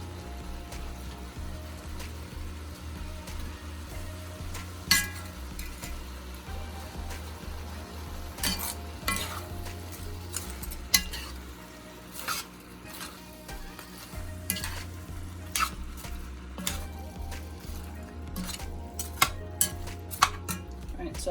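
Onions, garlic, pepper, scallion and thyme frying in a pan for pumpkin and codfish talkari, with steady sizzling and repeated stirring and utensil scrapes against the pot throughout, close and moderately loud.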